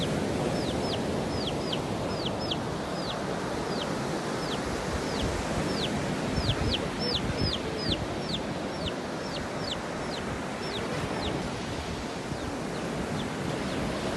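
High, thin peeps from a chick repeat in quick bursts over a steady roar of surf on a beach.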